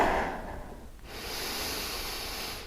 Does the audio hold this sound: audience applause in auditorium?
no